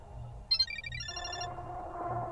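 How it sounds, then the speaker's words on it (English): Ringtone of a character's phone in the horror video game Parasocial, a bright electronic melody of repeating high tones that starts abruptly and plays loudly over a low ambient drone. "Suka's ringtone."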